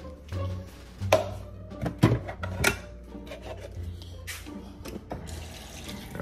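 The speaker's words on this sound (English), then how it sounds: "Let's go to my coffee maker and fill my coffee machine up with water." Water poured from a tap into a coffee maker's reservoir, with brief clunks of the container and machine parts, close and moderately loud at home.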